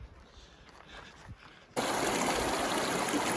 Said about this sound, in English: I knew I could hear the creek, and I'm just following the creek the whole way